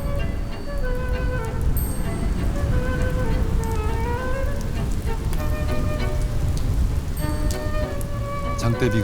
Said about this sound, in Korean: 장대비가 쏟아진다.